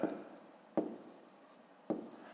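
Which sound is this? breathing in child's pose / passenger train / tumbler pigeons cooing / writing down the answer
writing down the answer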